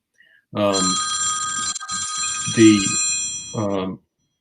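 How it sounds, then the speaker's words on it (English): A telephone rings in a series of bright electronic trill bursts, three distinct rings with short gaps, close and fairly loud, alone without talk. "my earphone and my other phone is ringing"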